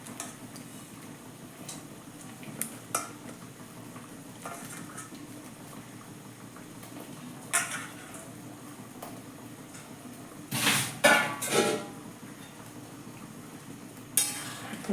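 Spoon stirring eggplant in a bubbling curry pot: scattered light ticks and scrapes, then a brief cluster of louder clattering strokes near the end, no voices.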